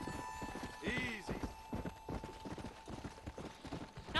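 A horse in the zombie-themed video game Red Dead Redemption: Undead Nightmare clip-clops along in a quick, regular hoof rhythm, with a short whinny early on; faint and close, over quiet game ambience.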